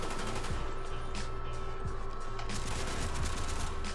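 Rapid automatic gunfire from a first-person shooter video game rattles continuously in dense bursts, loud and close, with no talking over it.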